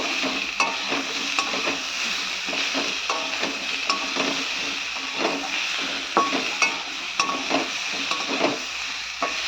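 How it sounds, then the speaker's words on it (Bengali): Potatoes frying in a pan with salt and turmeric: a continuous sizzle runs throughout while a utensil stirs and scrapes at frequent, uneven intervals. "দিয়ে দিয়েছি নুন আর হলুদ আর এটা একটু ভেজে নেব আলুগুলো"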